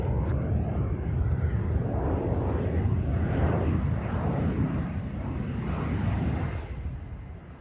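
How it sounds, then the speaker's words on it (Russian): A fighter jet flies over an abandoned military range, a loud broadband roar sustained for several seconds before it begins to fade. "Истребитель там летает."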